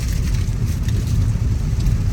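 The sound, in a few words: rain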